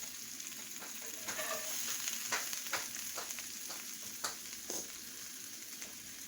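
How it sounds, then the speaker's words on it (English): Potatoes and smoked sausage sauté in a cast iron skillet, a steady close sizzle broken by scraping stirs and occasional sharper pops. "whenever you're doing sauteed potatoes, it's best to use a cast iron skillet"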